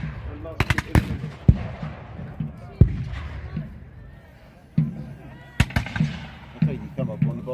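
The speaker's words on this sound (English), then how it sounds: "So the parliamentarian artillery has started." Scattered booming reports from parliamentarian cannon at an English Civil War reenactment, several sharp blasts spread irregularly among crackling musketry and distant crowd chatter, with voices talking throughout.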